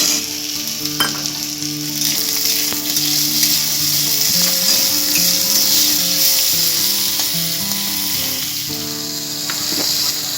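Halved tomatoes fry in a pan for a tomato chutney, giving a steady, close sizzling hiss that runs the whole time with a soft melodic tune underneath.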